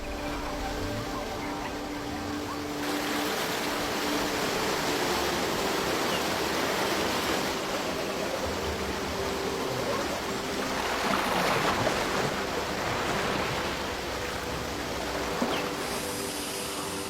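A powerful river in the Masai Mara roars in a steady, dense rush of water that holds loud and unbroken throughout, with no voices.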